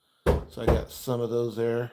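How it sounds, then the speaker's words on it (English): Children banging on a door from the other side: two sharp, heavy knocks in quick succession, followed by someone talking nearby. "I apologize for the banging on the door."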